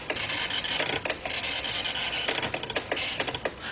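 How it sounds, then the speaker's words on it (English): A Commodore 64 printer rasps steadily as it prints out a program listing, in a continuous buzzy chatter broken by brief pauses between lines, close and without speech. "instead of listing to the screen, the computer will list to the printer"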